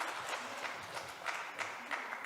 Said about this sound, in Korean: 박수로 한번 수고 격려해 주시기 바랍니다